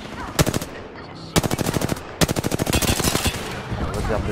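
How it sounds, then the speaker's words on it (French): Gunfire in the video game Apex Legends: a short opening shot, then two loud, rapid automatic bursts of close shots, with quieter background noise between them. "Je suis sous les tirs."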